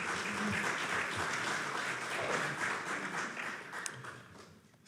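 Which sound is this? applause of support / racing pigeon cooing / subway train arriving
applause of support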